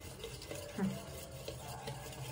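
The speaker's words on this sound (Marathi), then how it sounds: "साखर विरघळीपर्यंत फेटून घ्या" A sugar batter being whisked in a bowl until the sugar dissolves, heard as a quiet, continuous scraping and swishing with faint rhythmic strokes.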